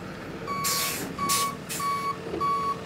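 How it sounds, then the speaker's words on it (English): Tow truck reversing beeps: four evenly spaced electronic tones, loud and close, mixed with bursts of hissing air brake and steady engine rumble on a roadside accident scene, no talk. "I think this might be the tow truck."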